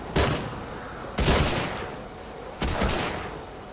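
Gunfire in the World War II shooter Hidden & Dangerous 2: three loud, sharp gunshot bursts spaced about a second apart, each trailing off in a short echoing tail.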